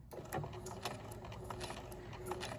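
A sewing machine stitching backwards over a fabric sample, a steady fast mechanical whir with rapid needle clatter running continuously and close by.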